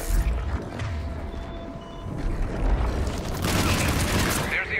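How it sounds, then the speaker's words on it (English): Artillery fire in Mass Effect 3: heavy booms and rumbling blasts with mechanical clatter build toward a louder, denser barrage near the end, while someone talks over them. "There's the artillery."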